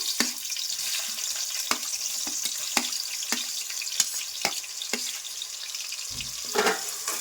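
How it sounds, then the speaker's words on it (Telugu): Onions drop into hot oil for a homemade chicken gravy and fry with a dense, steady sizzle. Sharp crackles and pops pierce it repeatedly, close and moderately loud, with no speech. "ఇప్పుడు ఆయిల్ కాగింది కదా, ఇప్పుడు ఉల్లిపాయలు వేసుకుందాం."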